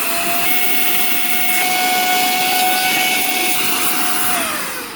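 A Baseus handheld car vacuum cleaner runs in blower mode to clear dust, giving a steady, loud, close motor whine with a constant high tone that drops slightly near the end.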